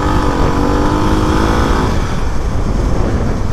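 A CF Moto 300 SR motorcycle's engine drones loud and close while riding, a steady throaty hum with wind rush that eases slightly toward the end.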